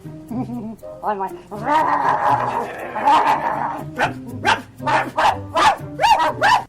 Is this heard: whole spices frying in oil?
no